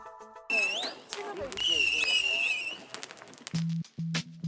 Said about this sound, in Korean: 한편에선 폭죽놀이가 한창입니다